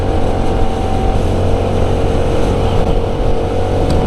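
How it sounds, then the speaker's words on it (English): A CF Moto NK 300 naked motorcycle engine runs with a deep, throaty exhaust rumble, steady and loud close by, without talking. "It's got a sort of a deep tone to it, almost like it has a little bit of an unrestricted exhaust."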